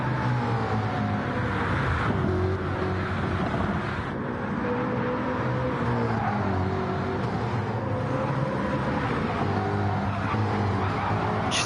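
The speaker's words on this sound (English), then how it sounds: "There are so many cars just roaring through this tunnel turn." Race cars roar through a tunnel turn in a racing video game, a steady, dense engine drone with layered, shifting pitches that holds loud and unbroken throughout.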